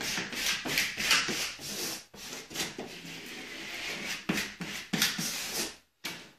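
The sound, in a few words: rubbing over applied tree decal to adhere it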